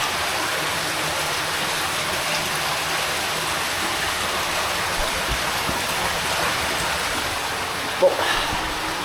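Water rushes steadily through a drainage channel in an abandoned railway tunnel, a loud, continuous broadband roar with a faint thump near the end.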